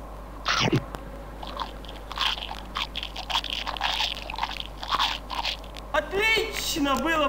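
Crunchy biting and chewing of kebabs in the Pink Panther video game, set in Egypt, recurring in short bursts mixed with a speaking voice and game sounds.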